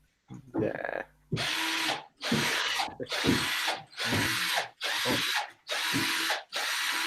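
Handheld power drill on a scale model workbench, whirring in about six bursts of a second or so each with short pauses between, close and loud, with a brief voice at the start.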